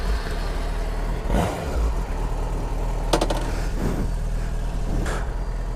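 A 2005 Yamaha FZ6 S sport-touring motorcycle with stock exhaust on a test ride: a steady engine drone with low rumble and wind noise runs throughout, with a few faint surges and no speech.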